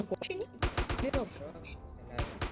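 Bursts of gunfire in the GTA video game, several sharp rapid shots in short clusters, heard alongside players talking.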